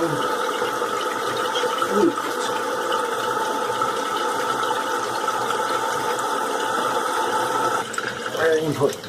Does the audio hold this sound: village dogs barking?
no